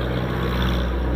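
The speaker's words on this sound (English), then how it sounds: "And another tractor." A tractor passes on a country back road in Ireland, a loud, steady, close engine rumble with broad road noise throughout.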